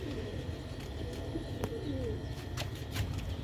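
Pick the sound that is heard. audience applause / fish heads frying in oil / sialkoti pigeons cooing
sialkoti pigeons cooing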